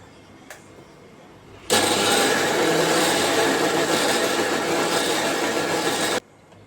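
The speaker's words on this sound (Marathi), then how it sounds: "आता हे सगळं मी मिक्सरमधून काढते" A mixer grinder blends gram flour, curd and cooked rice, starting abruptly into a loud, steady whirring roar for about four and a half seconds before cutting off sharply, with no voices.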